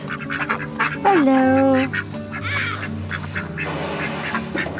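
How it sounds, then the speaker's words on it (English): Ducks quack close by on a small farm, a loud honking call followed by softer quacks, with a man's brief greeting over them. "The ducks are going through a molt"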